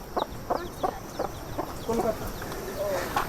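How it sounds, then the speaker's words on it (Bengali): Chickens cluck nearby in a steady series of short, clipped notes, roughly a few per second, with softer fowl murmurs toward the end, in a village hen house. "এই যে এর মধ্যে মুরগি।"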